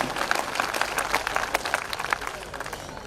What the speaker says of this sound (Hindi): पूरे सदन की एक बार तालियां फिर उठ जाएं